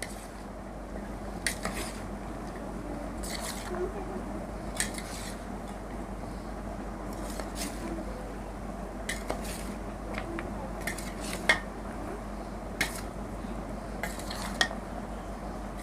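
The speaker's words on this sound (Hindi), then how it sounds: "और इसमें ये खुश्क दूध 100 ml डाल के अब इसको अच्छी तरह मिक्स करेंगे।" Dry milk being mixed into a creamy fruit chaat with utensils, giving soft scraping and occasional light clinks of spoon against bowl over a low steady background hum, with no talking.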